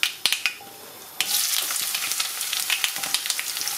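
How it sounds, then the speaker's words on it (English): Diced onion hitting hot coconut oil with curry leaves and spices, a few sharp pops from mustard seeds then a loud bursting sizzle that keeps crackling close up. "add the diced onion"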